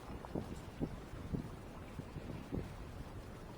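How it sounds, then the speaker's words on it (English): Wind gusts blow across a yard on a hot, dry evening during garden watering, a steady rushing buffet on the microphone with a few soft thumps. "the wind's blowing good this evening."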